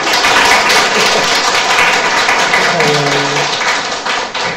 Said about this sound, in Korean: 힘내시라고 박수 한번 쳐드릴게요